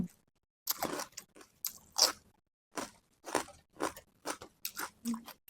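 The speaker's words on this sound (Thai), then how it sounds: "พันกับแคบหมูแบบนี้เลย มากินกันเลยค่ะ" Someone eats fermented rice noodles wrapped around crispy pork cracklings, giving a close series of sharp crunchy bites and chewing crackles in an irregular rhythm, otherwise quiet.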